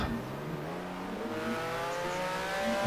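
Race car engine in the GTR2 racing game at Monza, rising in pitch as it approaches and drives past, with a steady whirring drone throughout and no voices.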